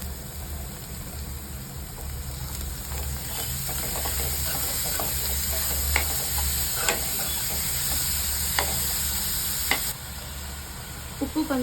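Vegetables stir-fry in a pan for paneer momo filling, giving a constant sizzling hiss with occasional spatula clicks and scrapes, close and steady throughout.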